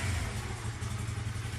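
A motorcycle engine running on power-supply capacitors in place of a battery hums steadily nearby at moderate revs, a continuous low drone with no talk.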